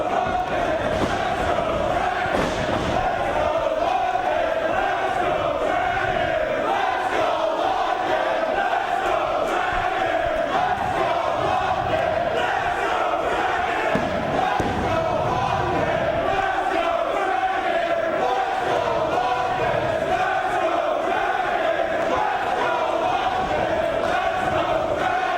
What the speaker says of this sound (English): Listen to those fans. What an atmosphere in this building.